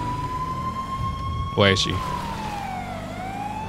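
A police car siren in the video game GTA 5 wails steadily and loudly, its pitch sliding slowly downward near the end, with a brief burst of other sound and a short spoken question over it.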